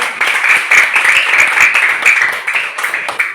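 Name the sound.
applause for performing group 1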